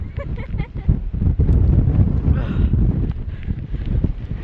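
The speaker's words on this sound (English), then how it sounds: "And a big gust of wind just came." A strong gust of wind on a muddy hill on the Isle of Skye, loud buffeting rumble against the microphone that builds and holds with rough fluttering surges, no talk.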